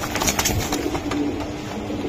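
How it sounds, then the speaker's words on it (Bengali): Pigeons in a crowded market setting, soft repeated low cooing and throaty murmurs close by, overlapping with scattered bird chatter and background bustle. "দেখার মতো একটা কবুতর"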